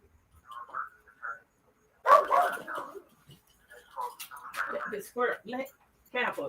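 A dog barks and yips close by, mixed in with a person talking, the bursts overlapping the voice in the second half.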